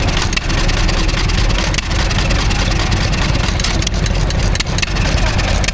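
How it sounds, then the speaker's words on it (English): John Deere E 1.5 horsepower stationary engine running at a country show in Sussex, giving a loud continuous chugging rumble with a rapid regular beat and a few faint voices in the background. "I didn't know John Deere made stationary engines"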